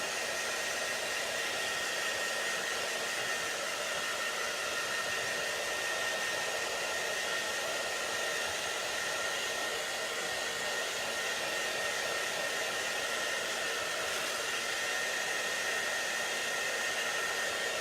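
A hair dryer blows steadily on ink-printed fabric to heat-set it, giving a loud, continuous, even whoosh for the whole stretch with no voices.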